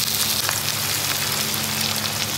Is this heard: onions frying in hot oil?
yes